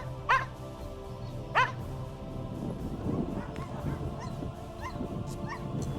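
Sled dogs bark at a sled dog race, two sharp nearby barks early on, followed by fainter yips and barking from further off over a steady outdoor crowd murmur.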